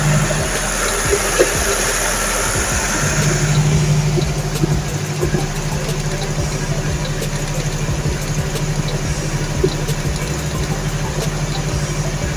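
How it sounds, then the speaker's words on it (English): A diesel generator engine runs steadily close by with a constant loud drone and hum, unchanged for the whole stretch, with no voices over it. "we can see on the screen that the engine is still running normally"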